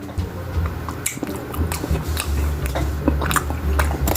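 Someone chews Christmas candy from the dollar store close to the mic, with wet, sticky squishing and smacking noises throughout over a low background hum.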